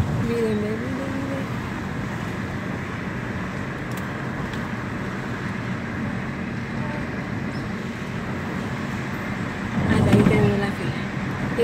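Road traffic rumbles steadily through a long queue of cars, a continuous broadband drone with a louder vehicle swelling close by near the end; a voice speaks over the first moments.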